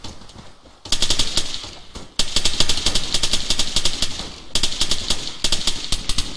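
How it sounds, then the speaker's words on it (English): Loud, rapid automatic gunfire in the Arma video game rattles in long sustained bursts, broken by brief pauses, close and dominant over a low rumbling background. "someone's shooting at me"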